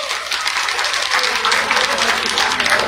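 Crowd applause at an outdoor street-corner election rally in Meham town, a steady broadband wash of clapping lasting throughout at moderate loudness.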